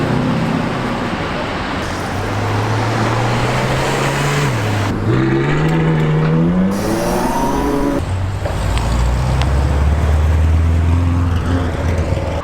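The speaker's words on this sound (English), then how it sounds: "There is a Ferrari 812 Superfast just passing us right now." Ferrari 812 Superfast passing on a London street, its engine rising and falling through a loud, close pass amid steady traffic noise.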